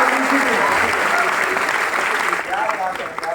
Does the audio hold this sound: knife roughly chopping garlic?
no